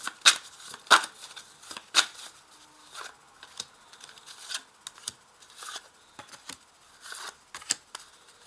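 Tarot cards laid out one by one on a table, giving soft papery slaps and quick sliding flicks in an irregular rhythm, close and fairly quiet, with no talking.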